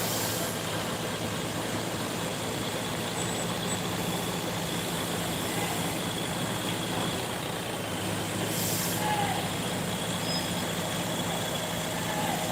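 At the BRPS bus terminal in Pekanbaru, a Simpati Star bus pulls out with a steady diesel rumble. Terminal noise surrounds it, along with a brief hiss of air partway through.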